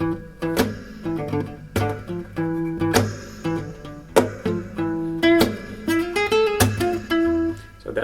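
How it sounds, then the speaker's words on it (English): Melodic music in the Phrygian dominant scale with a bright plucked or keyed lead over sustained low chords, exotic sounding with repeated accented hits, loud and continuous with no voices. "That's the sound of Phrygian dominant."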